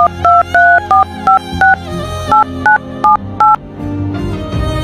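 A phone keypad sounds a quick run of about ten distinct touch-tone beeps at an irregular rhythm while a number is dialed, close and clear, with faint background noise filling the gaps.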